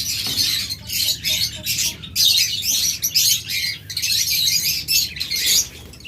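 A flock of caged lovebirds and budgerigars chirps and tweets in busy, overlapping bursts, loud and close, with brief pauses between flurries.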